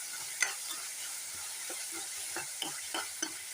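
Green peas kuruma ingredients sauté in a pressure cooker with a soft, steady sizzle and occasional light scraping clicks from stirring, quiet and close.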